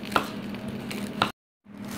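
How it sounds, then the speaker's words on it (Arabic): A couple of sharp knife strikes on a cutting board as parsley is chopped coarsely, with steady chopping noise, then a brief silence before the sound resumes. "هذا تقطيع البقدونس شوية كبير"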